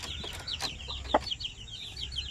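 A native hen with her chicks clucks softly nearby, with faint high peeping from the chicks in a quiet farm setting.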